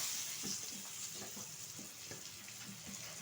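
Chopped onions hit hot oil left over from frying fish, for a jute-leaf dish, giving a steady, fairly quiet sizzle with soft stirring clicks throughout.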